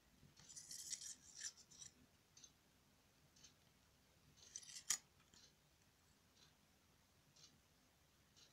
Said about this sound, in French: vous allez couper la part. Donc moi je vais la couper